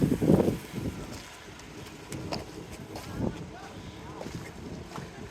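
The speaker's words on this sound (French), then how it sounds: "Il y a énormément de vent." Strong wind gusting across the microphone on a town street in Moramanga, Madagascar, rumbling and buffeting in uneven bursts, loudest at the start, with low background noise between gusts.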